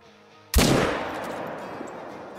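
A 300 Magnum rifle fires a single loud shot in the hunting video game Call of the Wild, a sharp blast followed by a long rolling echo that slowly fades over quiet background.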